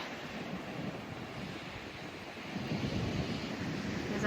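Waves wash against a rocky ocean shore under grey skies, a soft continuous surge of surf with light wind noise, heard alone and at a moderate distance, swelling slightly toward the end.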